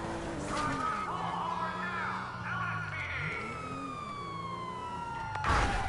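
A police siren from the video game GTA 5 wails with rising and falling tones, loud and close, with a brief burst of other game noise near the end.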